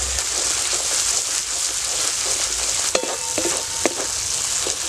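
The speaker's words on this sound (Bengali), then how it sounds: "মশলাটা ভালো করে কষাতে হবে মশলার থেকে যতক্ষণ তেল না ছেড়ে দিবে ততক্ষণে মশলাটা কষাতে হবে" Onion masala with turmeric and salt sautés in a pan, making a continuous close sizzle with scraping stir strokes and a couple of sharp utensil clinks near the end.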